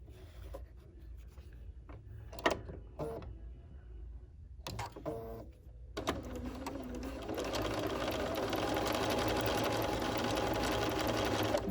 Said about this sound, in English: and then do your 1/4 inch seam